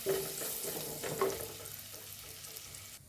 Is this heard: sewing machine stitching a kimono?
no